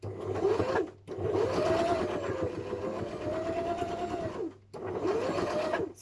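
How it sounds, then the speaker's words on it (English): A sewing machine stitches a bow hair clip in two long, steady runs of fast, whirring motor hum, broken by a brief pause; close and fairly loud, with no talking. "Now I'll start being able to sew."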